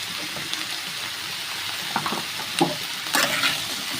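Leafy greens with potato and eggplant fry in a pan with salt and turmeric, giving a steady close sizzle broken by a few short clattering stirs.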